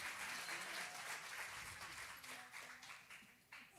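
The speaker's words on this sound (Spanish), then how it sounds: "Ese aplauso más fuerte para el Señor" A church congregation claps together, a dense wash of applause that stays strong and then gradually thins and fades toward the end.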